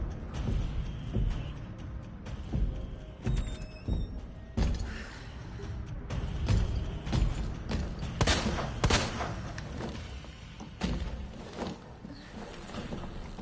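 Gunfire in the Resident Evil 2 video game, with a handful of sharp, loud shots spaced over a busy, continuous game soundscape.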